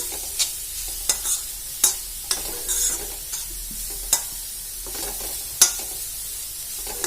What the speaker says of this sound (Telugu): క్యారెట్లు అయితే వేసేసిన ఒకసారి అయితే మంచిగా కలిపేసుకోవాలి